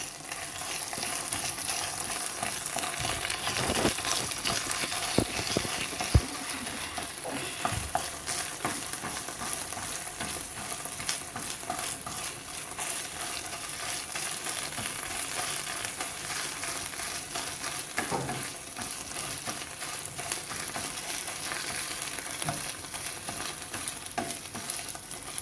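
Ginger garlic paste with oregano and chili flakes sautés in a pan with a steady, continuous sizzle and frying hiss, with occasional stirring scrapes throughout.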